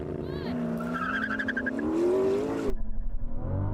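A Ferrari 296 GTB's tires spin and squeal over a loud revving engine, the whine rising in pitch before cutting off abruptly into lower engine rumble.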